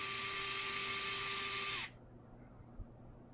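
A Vessel electric screwdriver spins at 340 RPM, a steady close whirring hum that stops abruptly partway through, leaving near-silence broken by one small knock.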